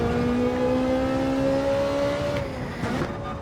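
A Ferrari Group 4 race car in Gran Turismo 7 holds a steady, loud engine drone at high revs, with a brief pitch dip partway through as it shifts, and no talk.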